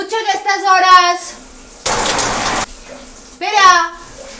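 Shower water runs in a steady broadband rush for under a second, set between bursts of excited speech from a man before and after.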